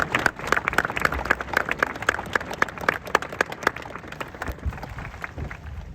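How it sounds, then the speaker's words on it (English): A graduation audience at T.L. Hanna High School claps for parents and families, a steady patter of many hands, fairly close and moderately loud, fading slightly toward the end. "honor the parents and family of my fellow graduates with a round of applause"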